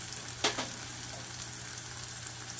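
Curry leaves, green chillies, turmeric and asafoetida frying in oil for a fenugreek pithla, a soft continuous sizzle with one brief louder crackle near the start, fairly quiet, no voices.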